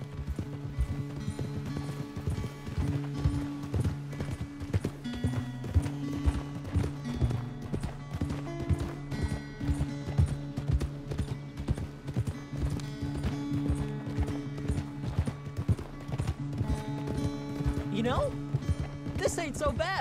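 Horse hooves pound in a fast, steady gallop over a layered music bed, with a brief whinny near the end, in the video game Red Dead Redemption 2.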